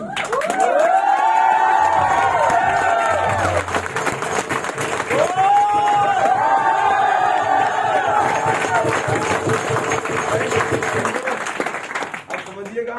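A crowd at a meeting welcoming new guests with loud, sustained cheering, whooping and shouting over continuous clapping, voices rising in waves, then thinning near the end.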